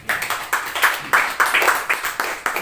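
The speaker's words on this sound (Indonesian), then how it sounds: "Boleh kasih tepuk tangan buat Tuhan." A church congregation claps together in a steady, regular rhythm, with evenly spaced bursts of hand claps that fill the room.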